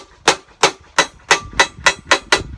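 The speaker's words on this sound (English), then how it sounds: "taking my body hammer and just flatten them off on the back side" A body hammer strikes metal laid on a chunk of half-inch steel plate, flattening it with seven loud, sharp, evenly spaced blows, close and alone.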